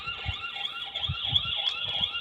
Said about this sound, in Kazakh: Сиренаны қосам,